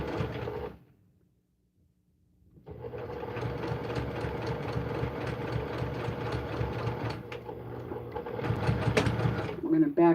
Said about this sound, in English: I'm going to backstitch that.